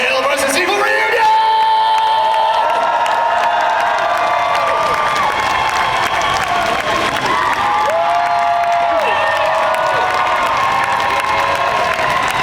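A big convention crowd at a Tucker and Dale vs Evil reunion panel screams, whoops and cheers loudly and continuously, with a voice booming over the sustained roar throughout.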